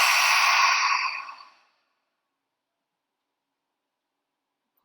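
A long, deep exhale during yoga breathing, a soft close breath lasting under two seconds that fades out, followed by silence.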